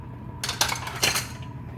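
A metal lid is set onto a frying pan holding omelette, producing a quick cluster of close, bright clinks and rattles that settle within about a second.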